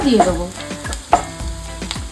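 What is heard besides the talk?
onion paste frying in coconut oil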